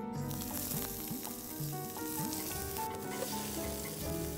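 Chopped onions frying in two spoons of hot oil for spinach rice give a steady, loud, continuous sizzle that runs unbroken throughout, with no talking.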